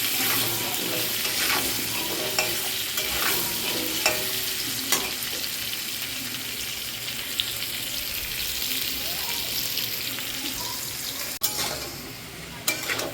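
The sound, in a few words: potatoes frying in oil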